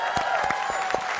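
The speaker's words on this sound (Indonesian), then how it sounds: "coba sekarang kita minta tepuk tangannya buat Sola ini." A brief burst of clapping from a talk-show studio audience, a handful of quick overlapping claps over a low crowd murmur.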